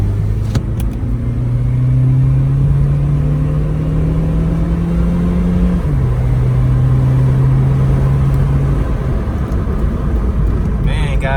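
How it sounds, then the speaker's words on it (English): An Acura RSX car accelerates out of a U-turn, its engine note rising steadily, dropping at a gear change, then climbing again over road noise, heard from inside the car. "Let's go ahead and step on it, give it some gas."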